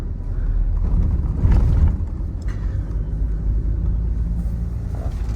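A car pulling away through a highway toll plaza, a deep continuous engine rumble and road noise that swells briefly as it accelerates, loud and close with no voices.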